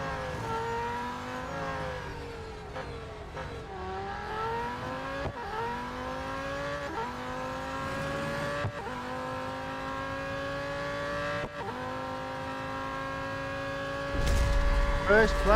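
Racing car engine in the mobile game Real Racing 3, revving hard through rising gear pulls with sharp drops at each shift, loud and continuous, with a brief surge of noise near the end.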